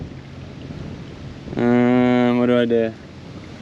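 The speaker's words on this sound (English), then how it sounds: "And it's so windy." Wind rumbles low and steady while shore fishing on a blustery Hong Kong day; midway, a person briefly speaks over it, then the gusty background carries on alone.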